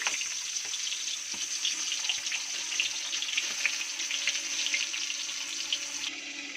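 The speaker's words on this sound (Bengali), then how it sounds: "এবার আমি ইলিশ মাছের মাথাগুলো দিয়ে দিচ্ছি।" Hilsa fish heads frying in hot mustard oil in a kadai, a fairly quiet, steady crackling sizzle with frequent small pops and spatters, and no talking.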